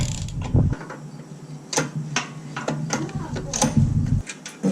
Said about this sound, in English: as you can see, the motor spins over fine